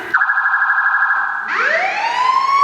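Police siren effect from a stage drama rises and wails alone, a sustained tone that jumps and then sweeps upward, loud and close.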